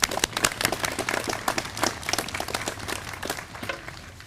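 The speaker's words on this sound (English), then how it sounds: "So give yourselves a round of applause" An outdoor audience at a veterans parade claps in a steady scattered patter of many hands, sustained and moderately loud throughout.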